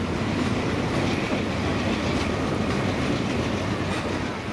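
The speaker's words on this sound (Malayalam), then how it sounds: "താഴേക്കൂടി ഒരു ട്രെയിൻ കടന്നു പോകുന്നത് കാണാം." A freight train rumbles past close by on a riverside line in Lima, Peru, a dense steady roar with rhythmic wheel clatter and faint high squeals, loud and continuous throughout.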